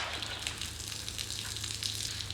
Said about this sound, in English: I'm gonna go ahead and pull the trigger and let the water purge out of it.